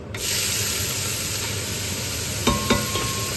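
Holy trinity vegetables hitting a hot pan with the meat removed, a loud steady sizzle as they are stirred and scraped, with a couple of utensil knocks near the end.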